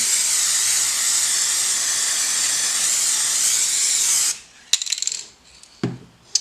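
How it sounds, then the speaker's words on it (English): A loud, continuous hiss of spray adhesive from an aerosol can, coating leather for a strop, for about four seconds, then it stops, followed by a few light clicks and knocks. "this is just a spray all over, just a nice clean spray, make sure it's all coated"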